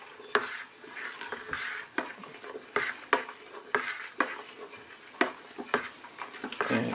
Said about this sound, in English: what we're going to do is just stir it up now. Give it a good stir